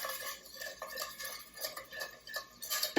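Roux being stirred in a pot for chicken and sausage gumbo, a soft, continuous scraping with irregular light clinks of utensil against the pot, fairly quiet and close, with no talking.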